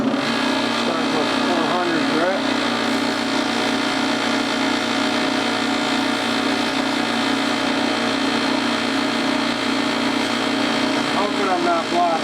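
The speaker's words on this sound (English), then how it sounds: "Now what we're gonna do is start the sanding process" Sanding a turned profile on a wood lathe, a steady loud motor whine with continuous abrasive hiss throughout, with someone talking over it.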